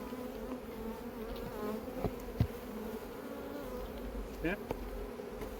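Honeybees buzzing around an open beehive during a queen introduction, a steady close droning hum with a few sharp knocks and a brief louder fly-by, and one short spoken word in the middle.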